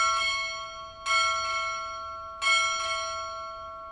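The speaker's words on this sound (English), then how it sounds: "Strike 6 bells." A ship's bell rings out at a Navy graduation ceremony indoors, struck in two-stroke pairs with clear metallic tones that ring on and decay between strikes.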